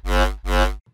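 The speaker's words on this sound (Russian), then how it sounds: "Вот как звучит вместе с саб-осциллятором." Two sustained synth notes from a detailed preset, layered with a sub-oscillator for low-end weight, each sounding about 0.4 seconds and stopping abruptly, followed by a faint short tail.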